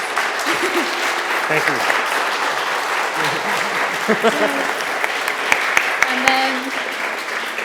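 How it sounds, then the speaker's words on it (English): An audience gives a round of applause at a game artist panel, sustained dense clapping from a large crowd with scattered cheers, while voices talk over it near the end. "So let's have a round of applause first before we do."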